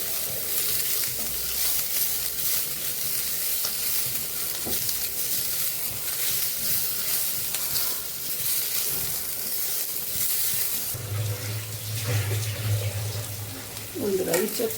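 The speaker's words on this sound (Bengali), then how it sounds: "মশলা, জয়িত্রী, দারচিনি সব দিয়ে একসাথে ভেজে নিচ্ছি।" Whole spices, mace and cinnamon frying together in a pan for a jackfruit curry, a continuous close sizzle with a brief low humming tone and some clatter near the end.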